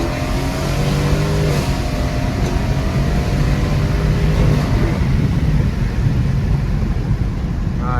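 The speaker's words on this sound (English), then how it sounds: "I'm gonna do one more pull for y'all." A Dodge Charger Scat Pack with a 392 engine accelerates hard on a night drive, its loud exhaust climbing in a long rising pull that holds a deep, steady roar to the end.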